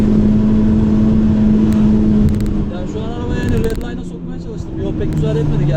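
An Opel Astra 1.6 running on LPG accelerates with a steady loud engine drone from inside the car, its pitch shifting slightly as it revs, while people talk over it.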